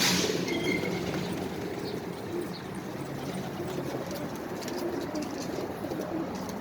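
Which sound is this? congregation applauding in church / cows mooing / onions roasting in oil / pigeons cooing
pigeons cooing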